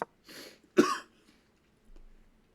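A man coughs a few times, two harsh close coughs in quick succession followed by a softer one after a pause, in a quiet room.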